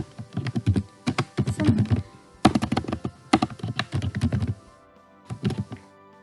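Bursts of rapid typing on a computer keyboard, close and fairly loud, in several clusters of quick keystrokes separated by short pauses, with no voices.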